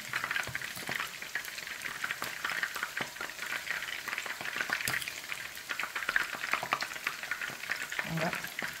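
Jollof rice in a pot is stirred steadily, a continuous scraping, bubbling sizzle with scattered spoon clicks that stays close and even throughout.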